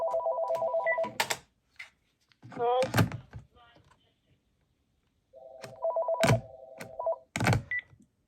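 Panasonic cordless phone ringing with an incoming call in short electronic bursts, cut off and restarted as the handset is lifted and set back, with clunks of handling between rings.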